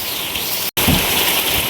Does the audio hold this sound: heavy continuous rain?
yes